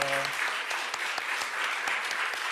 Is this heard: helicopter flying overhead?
no